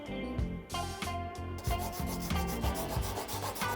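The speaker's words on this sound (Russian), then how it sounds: "На гриндере грубо придаю примерную форму, а затем доделываю вручную." Knife handle halves are shaped by hand on an abrasive, giving a rhythmic back-and-forth rasping rub in steady strokes, close and clear with no talk.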